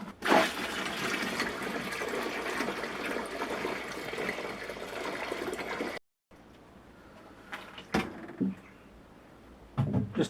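Water pours steadily into a sanitised plastic fermenting bucket while brewing a Fat Angel clone beer, a loud continuous rush for about six seconds, then quieter trickles and splashes.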